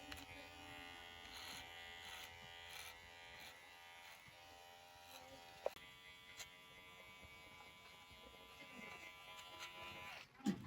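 Electric hair clipper buzzing steadily while cutting a child's hair, a thin constant whine close by with a few small knocks and shifts in tone as it moves.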